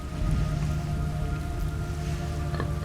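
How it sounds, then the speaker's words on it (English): Steady rain falling in the stealth video game Metal Gear Solid: Snake Eater, a dense continuous patter with a low rumbling bed, loud and unbroken throughout. "It's raining blood."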